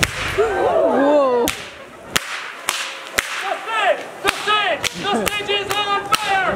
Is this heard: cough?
no